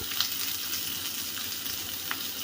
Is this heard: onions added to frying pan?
yes